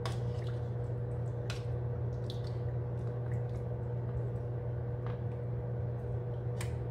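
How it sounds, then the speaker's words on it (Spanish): Water is poured into a pot of chicken sancocho with vegetables, producing soft squishy splashes and drips over a steady low hum, with scattered sharper liquid ticks and no talk. "hay que agregarle un poquito más de agua porque mire, todavía le falta"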